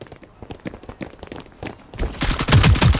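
Rapid bursts of gunfire from the Valorant Mobile shooter game played on an iPhone 6, close and loud, with a dense volley building near the end.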